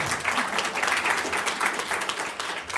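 Applause from a live audience at a management talk, a dense steady wash of many hands clapping together, loud and close, sustained throughout without a break.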